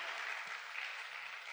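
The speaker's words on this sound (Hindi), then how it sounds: "अद्भुत, जोरदार तालियां" Audience applause in a meeting hall, a brief, steady wash of clapping from many hands, fairly distant and even in loudness throughout.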